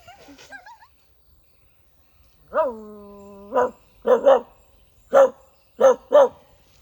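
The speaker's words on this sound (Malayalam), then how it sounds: "ഒരു നായി ഉണ്ട് ഗൈസ് റോക്കി" A dog barks several times nearby, starting with a drawn-out howl-like bark followed by short, spaced barks in pairs, faint background otherwise.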